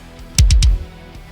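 A metal kick drum mixed in FL Studio and crushed by Camel Crusher's British Clean preset thumps three times in quick succession, each hit loud, saturated and booming, then stops.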